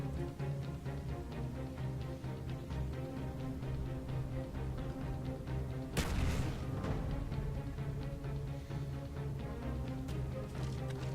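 A grenade thrown on the Villa map of a shooter game detonates with a single loud broadband blast partway through, over a steady low rumble of background battle noise.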